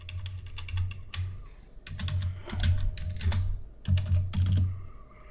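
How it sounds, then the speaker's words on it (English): Typing on a computer keyboard, close and distinct, with irregular bursts of key clicks separated by brief pauses. "I'll just type in salary."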